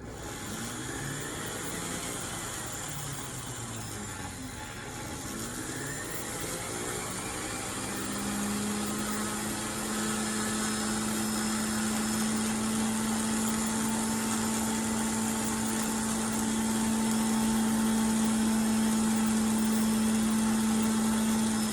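A rotary tool spins an Electra-Spin polishing wheel on jewelry held against a steel block, a steady close motor whine and hum that holds and slowly builds over twenty seconds, with no talking.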